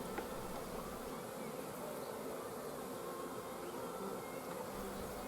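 Honey bees buzz steadily around an open hive frame full of brood and young larvae, a continuous dense drone of many insects close by with no pauses.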